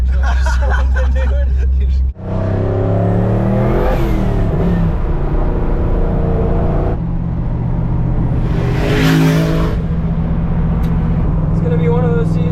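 An old twin-turbo Chevrolet C10 pickup truck cruises and accelerates along Woodward, its engine loud and close, rising in pitch through revs with voices talking over it.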